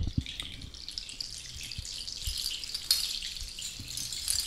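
A handmade water curtain instrument imitating a waterfall or river, a soft continuous watery hiss with faint trickling and occasional low knocks, quiet and close, no talking.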